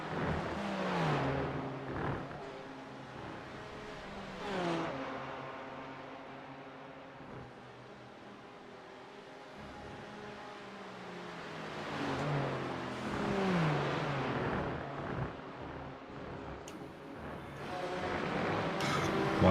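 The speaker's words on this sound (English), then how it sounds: "Watching those BMWs just eating the curbs through the inner loop." BMW race cars in iRacing lap Watkins Glen, their engines rising and falling in pitch as they rev through corners and ride over curbs, sounding moderately distant with a faint commentary voice underneath.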